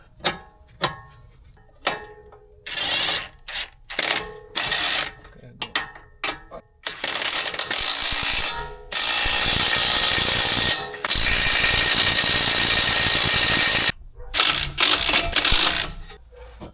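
Ratchet work on sway bar screws on a 2007–2011 Acura MDX front strut: clicking pawl bursts come first, then long continuous whirring runs, followed by more short clicks, all loud and close.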